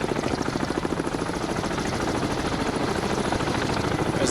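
A military helicopter in the submarine game Cold Waters beats with a steady, rapid rotor pulse under a constant engine whine, loud and continuous throughout with no voices.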